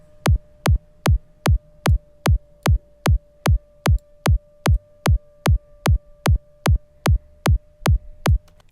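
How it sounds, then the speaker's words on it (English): A synthesized hitech psytrance kick drum built in Bitwig with the V0 Zap kick and FX Grid thumps alone in a fast, even, punchy pattern of about two beats per second. "this is the kick on Bitwig using the V0 Zap kick and FX Grid"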